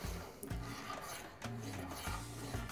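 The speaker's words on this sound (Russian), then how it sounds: "заканчиваем с полировкой нашей режущей кромки" A worn knife's cutting edge is polished with GOI paste in repeated rubbing, rasping strokes, roughly one per second. The sound is close and fairly quiet, with no talking.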